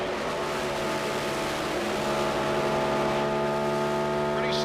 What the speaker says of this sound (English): listen to the engine. You can tell how much he's rolling out of the throttle as we enter this corner.